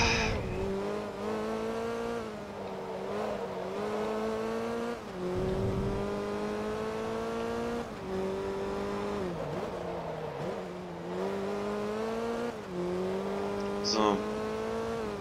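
Engine of a VW Golf GTI race car in Forza Motorsport 2 drones steadily, rising and dropping in pitch through gear changes and revving, while someone talks over it.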